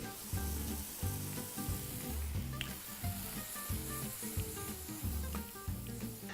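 Peppers sizzle in a pan with two knobs of butter and a little oil, a steady frying hiss under a rhythmic musical thump that runs throughout, with no one speaking.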